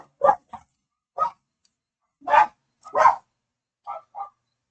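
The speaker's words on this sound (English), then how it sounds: "That's my dog in the background there." A dog barks several times, short sharp woofs spaced irregularly with quiet gaps, fairly close and otherwise alone.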